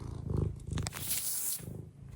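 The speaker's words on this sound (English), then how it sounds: "Maybe you can hear him purr." A pet cat purring close by at feeding time indoors, a soft rhythmic rumble pulsing steadily under faint household noise.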